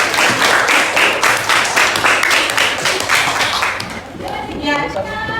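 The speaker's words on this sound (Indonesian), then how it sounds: "Silakan Ibu beri aplaus untuk yang menanggapi." A classroom breaks into applause for a student who responded: a loud, close burst of many hands clapping that fades out after about four seconds, followed by quieter voices and room noise.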